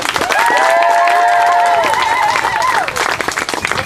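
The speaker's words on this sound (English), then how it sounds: "Big round of applause for Tad, everyone." A crowd bursts into dense applause and cheering, with a few shouted voices rising above the clapping for several seconds.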